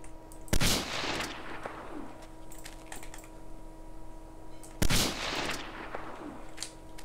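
Two sharp, loud sniper rifle shots in the survival game DayZ ring out about four seconds apart, each leaving a long echoing tail over a steady low hum.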